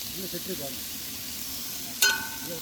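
Masala-coated fish pieces frying in a pan for a Kerala-style kal masala fish fry, a soft steady sizzle, fairly quiet, with brief talk at the start and a sharp clink near the end.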